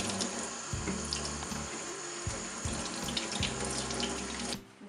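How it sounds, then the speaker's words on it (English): Parsley root being washed under a running kitchen tap, a steady loud stream of water splashing into a sink with irregular spatters as the root is turned under the flow, ending abruptly as the water is shut off. "Wash the parsley root thoroughly."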